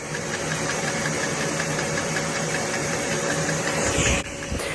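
Small supercharged vacuum engine built by 747Technics running steadily, a loud continuous knocking chug with a fine rhythmic pulse that cuts off abruptly near the end.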